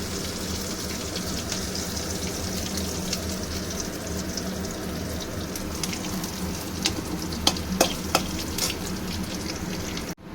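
Chopped green chillies sizzle and fry in hot oil as a tempering for a fish roe curry, a steady close crackle with a few sharp pops and stirring clinks toward the end.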